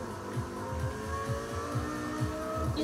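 An Audi R8 in the Need for Speed Rivals racing game, its engine droning and revving in a steady pulsing rhythm, moderately loud with no talk over it.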